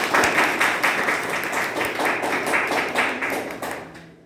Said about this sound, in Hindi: मैं चाहूंगा कि प्राण सर के लिए एक शानदार तालियां मिले।